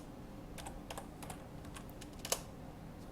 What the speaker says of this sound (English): I'm just typing the important heading.